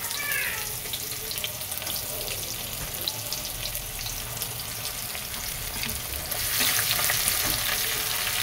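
Whole spices frying in hot oil: cumin seeds, a broken bay leaf, cardamom and cloves. A steady, dense sizzle crackles throughout and grows louder in the last couple of seconds.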